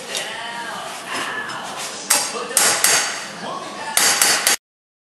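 Heavy hammer blows on a steel inner brace of a 1968 Camaro as the metal is bent to shape, a dense run of loud, ringing metallic strikes with several sharp, harder hits toward the end before it cuts off.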